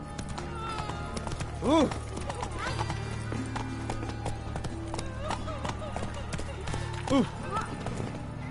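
Roach, a horse in The Witcher 3, moves with steady clip-clopping hoofbeats under continuous game ambience, broken twice by short rising vocal exclamations.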